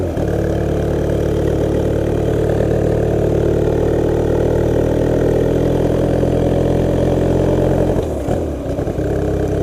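A Honda Rebel motorcycle converted into a dirtbike runs with a loud, steady idle, then its engine note dips and changes briefly near the end.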